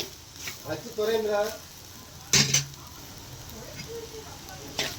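Egg poriyal fries and is stirred in a pan. Soft sizzling runs under a spatula that scrapes and clinks against the pan, and a voice talks over it.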